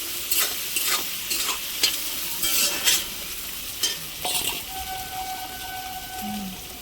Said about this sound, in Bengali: পেঁয়াজগুলো একটু ভাজা হবে, লাল লাল হয়ে যাবে।